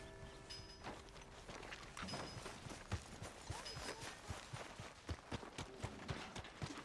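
Horse hoofbeats in Red Dead Redemption 2, a quick, rhythmic clip-clop of a trotting horse on hard ground, steady and moderately close over soft game ambience.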